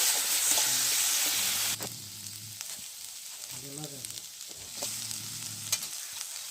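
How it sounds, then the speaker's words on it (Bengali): Chopped onion with turmeric powder fries in a pan, a continuous sizzle under occasional stirring scrapes, with faint tonal sounds drifting in the background. "হলুদ গুঁড়ো একটু ভালো করে ভেজে নেবেন পেঁয়াজ কুচি"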